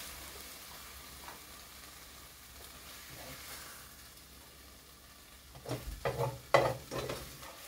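Jute greens with green chilies frying and being stirred in a pan, a soft steady sizzle with scraping stir strokes that grow louder toward the end.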